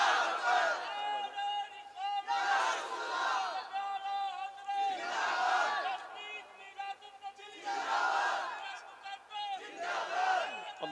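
A crowd at a religious gathering in Salimpur chants slogans in unison to welcome a speaker, loud rhythmic bursts of many voices rising and falling about every two and a half seconds.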